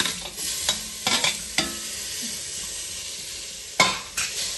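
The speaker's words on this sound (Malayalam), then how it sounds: "എന്നിട്ട് വീണ്ടും ഇളക്കാം." Onions, chilli powder, coriander powder and tomato are stirred in a frying pan for a chicken curry, with a steady sizzle under a few sharp scraping strokes of the spoon, close and alone.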